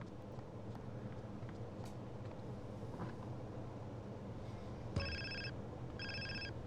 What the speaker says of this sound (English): Oh, hold on. I got a phone.